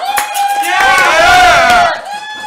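Game show crowd shouting and cheering for a contestant during a timed talent round, a loud close swell of voices rising then falling off over about two seconds.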